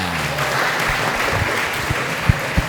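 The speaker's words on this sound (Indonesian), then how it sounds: "tepuk tangan dulu" An audience of young people at a youth leadership camp claps together, a dense continuous applause filling the room, loud and close, with a couple of sharper claps near the end.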